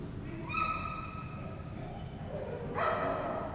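A dog out back barks in two short bursts, one near the start and one near the end, heard against steady outdoor background noise at a summer dock diving competition.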